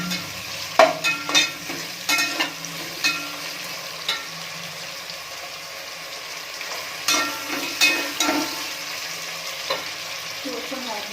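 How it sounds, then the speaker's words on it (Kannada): Carrots frying and being stirred in a pan for cabbage rice bath, a steady sizzle broken by repeated scraping and tapping strokes of a spatula, close up with no talking. "ಅದನ್ನು ಚೆನ್ನಾಗಿ ಹುರ್ಕೋಬೇಕು ಕ್ಯಾರೆಟ್ನ"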